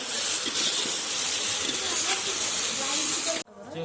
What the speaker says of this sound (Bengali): উনি আলু আলু ফ্রাই করছে